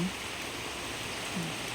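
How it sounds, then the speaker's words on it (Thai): Rain falls steadily outdoors as a broad, even hiss with no breaks, and faint brief voices come through under it. "ฝนกำลังตกเลยนะคะ"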